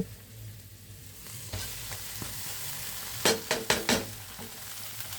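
Maggi noodles hitting a pan with just a little oil, giving a soft sizzle that builds, then a quick run of four sharp scraping stirs near the end, close and fairly quiet, with no voices.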